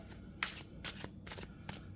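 A tarot card deck being shuffled close by, with several quick papery riffle bursts separated by short pauses and no voices.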